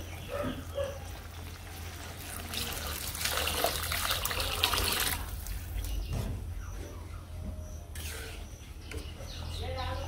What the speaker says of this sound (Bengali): তো সেই কারণে একটু জল দিয়ে দিই।